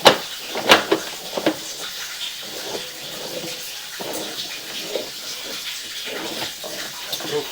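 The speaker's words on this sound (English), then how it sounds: "Hopefully running that water does not obscure flow very much" Steady hiss of water running from a tap, continuous and moderately close, with a few brief clanks and knocks scattered through.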